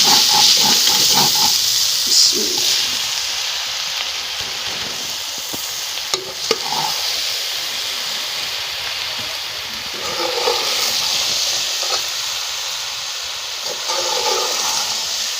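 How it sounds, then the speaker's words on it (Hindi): Boiled macaroni being stirred into roasted masala in a pan, giving a steady sizzling, frying hiss with intermittent scraping stir strokes throughout, no talking. "मसाला भून के तो फिर ये मकरोनी उसमें ऐड कर देनी है"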